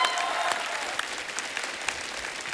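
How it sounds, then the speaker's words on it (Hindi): An audience applauds, a dense and steady wash of clapping from a crowd that carries on throughout without letting up. "तालियां।"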